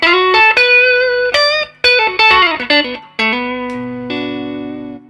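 Electric guitar played through a tube amp: a few short melodic phrases of bright, sustained, slightly driven notes, ending on a held chord, close and loud.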